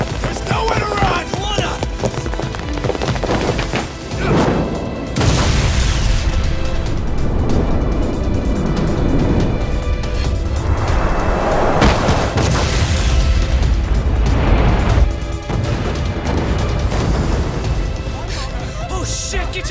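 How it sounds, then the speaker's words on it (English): A ship explodes in the video game Lost Judgment, loud booming blasts and crashing debris rolling across a dense, sustained game soundscape, with voices shouting over it. "This ship just exploded!"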